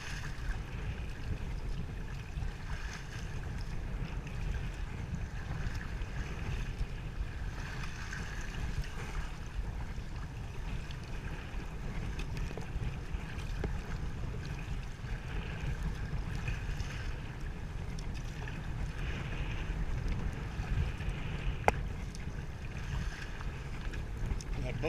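Rough, choppy open water churns steadily around a kayak, with a continuous loud wash of waves and wind noise, low rumbling and unbroken for the whole stretch, a brief knock near the end.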